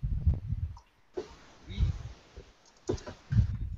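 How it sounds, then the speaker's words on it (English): Fingers tap on a computer keyboard in short clattering bursts separated by pauses, heard close, with soft breathing and low body noises in between. "I'm typing up the email to go to everybody."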